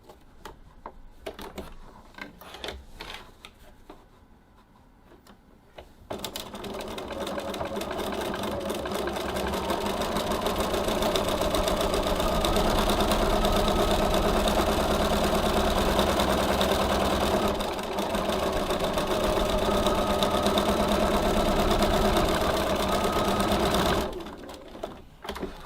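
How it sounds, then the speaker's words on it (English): A sewing machine stitches the slip pocket pieces of a tote bag, a close, loud, steady mechanical whir that runs for most of the stretch after some handling noises, then stops. "So now that we have stitched our two pocket pieces together"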